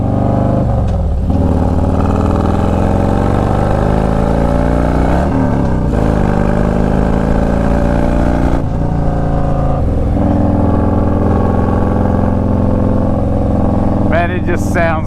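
A Harley-Davidson Street Glide Special FLHXS motorcycle engine rumbles and revs loudly throughout as the rider rolls on the throttle, with a steady deep exhaust note and rising pitch on acceleration.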